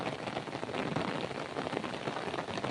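Steady, dense downpour of heavy rain with a constant hiss throughout, no voices.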